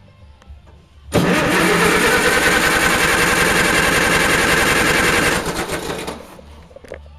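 An Allis-Chalmers WD45 tractor engine cranks over steadily for about four seconds during a compression test, a loud, close, rhythmic chugging that starts abruptly and then winds down and fades.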